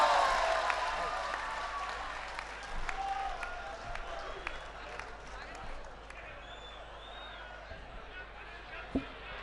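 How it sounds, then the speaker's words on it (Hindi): An audience at a Hindi comedy poetry gathering, the Hasya Kavi Sammelan at Jalore Mahotsav 2020, breaks into loud applause welcoming a poet to the stage, then slowly tapers into scattered claps and crowd murmur, with a voice speaking over it. "तो अपनी तालियों से उस तूफान को आमंत्रित कीजिए जिनका नाम होता है अखिलेश द्विवेदी।"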